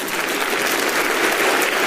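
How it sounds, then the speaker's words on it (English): A short burst of sustained applause with many hands clapping at once, steady and fairly loud throughout. "Roaring round of applause there"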